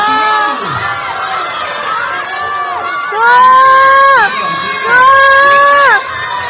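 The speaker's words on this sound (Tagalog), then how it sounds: "Ayan, isigaw nyo na. 1, 2, 5! Ang sigaw, sigaw." Children at a seaside resort game yell together in loud, sustained shouts, two big bursts rising over a continuous crowd din of excited voices.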